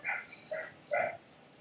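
A dog in a house gives a few quick, high yips and barks, faint and somewhat distant, with short pauses between them.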